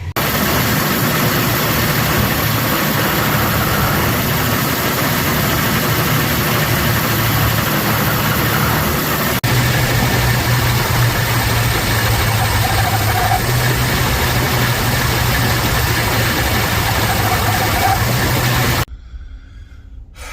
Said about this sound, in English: That fan drive is surging.